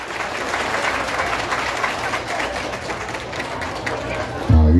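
A crowd at a town square festival applauds steadily for several seconds, a dense mass of clapping that cuts off abruptly into a brief burst of voice.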